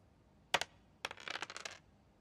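Dice clatter onto a hard table: two sharp clicks, then a quick flurry of rattling taps as they tumble and settle.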